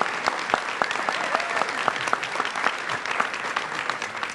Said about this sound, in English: Let's have a nice round of applause for all our bronze medal award winners.